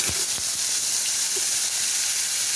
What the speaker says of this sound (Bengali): এই তেলটার মধ্যেই আমি এখন আলুগুলো দিয়ে দেবো একটু।